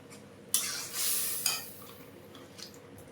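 Red lentils with radish being tipped into a hot pan, a sharp burst of sizzle and splash followed by a few scraping stirs of a spoon, then quieter bubbling, close by.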